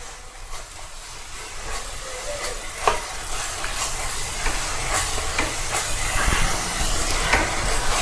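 Kashmiri red chili powder stirred into a pizza sauce in a hot pan, a continuous hissing sizzle with intermittent spoon scrapes and one louder clack, growing slightly louder toward the end.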